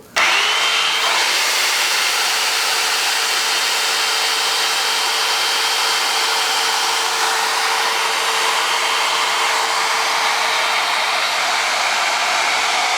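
Hot air hair dryer brush running on its high setting, a loud continuous blowing whir with a steady high whine, starting abruptly and holding constant close to the listener.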